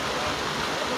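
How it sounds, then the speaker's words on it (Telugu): Steady broadband rush of water pouring at Kapartheeswara Kona waterfall, a continuous close roar filling the whole second with no break. "ఈ జలపాతం నీరు అయితే వస్తూనే ఉన్నాయి"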